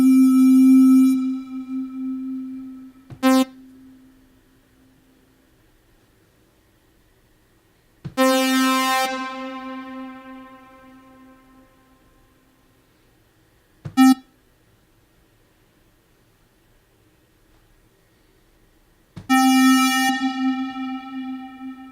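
Four bright synth tones ring out one after another, each with a sharp start and a long reverberant tail with echoing repeats, separated by quiet gaps.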